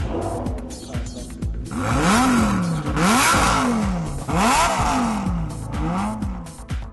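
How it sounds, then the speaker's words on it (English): A Lamborghini Gallardo Spider tuned by RSC Tuning revs hard at the Miami Festival of Speed, its loud engine rising and falling through repeated gear changes close by, with tire noise and clatter. "if you guys thought that Lambo was loud"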